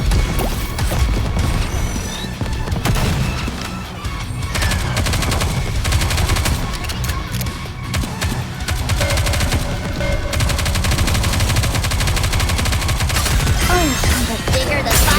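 Rapid, loud gunfire from the video game Nikke, bursts of shots and crashes layered over game music and effects, continuous throughout.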